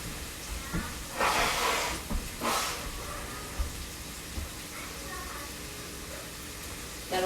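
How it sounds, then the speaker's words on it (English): Ground beef sizzles in a skillet as a steady, broad hiss runs throughout, with two louder surges early on while a person talks nearby. "I'm cooking ground beef right here in this skillet"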